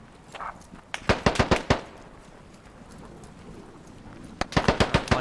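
Gunfire from the military shooter game Squad: two loud rapid bursts of close shots, one at the start and another near the end, separated by a quieter stretch of background noise.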